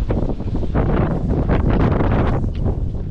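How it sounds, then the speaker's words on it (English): Strong wind buffets a microphone outdoors in the snowy Montgenevre ski area, a loud, continuous roaring rumble with gusting surges throughout and no talk. "Ah, but it's windy as fuck"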